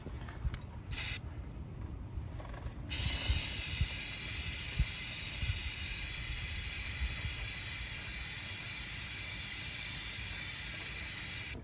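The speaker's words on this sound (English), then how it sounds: "First, we're just soaking the chain basically in the chain cleaner." Motorcycle chain cleaner sprayed onto a cold chain: a few brief bursts early on, then one loud, steady, continuous spray hiss held close for about nine seconds.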